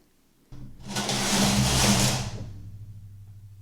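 A domestic knitting machine carriage is pushed across one full row of needles on a punchcard dragon-scale pattern, giving a close, sustained mechanical whirring slide that swells and then trails off into a low hum.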